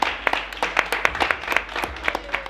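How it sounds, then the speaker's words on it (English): Sparse applause from a small group at a reunion show taping, with distinct individual claps in an uneven rhythm, close and fairly light. "let's give ourselves a round of applause for Krista"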